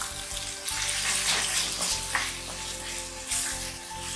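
Masala for vegetable biryani sautés in a pan, a steady, fairly loud sizzle and crackle with a low hum beneath and a few brief stirring scrapes.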